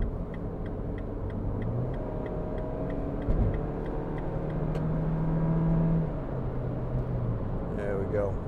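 A 2014 MINI Countryman Cooper ALL4 with a 1.6 engine accelerates toward 70 mph, its engine note rising in steady tones under road rumble, with the indicator ticking and a brief voice near the end.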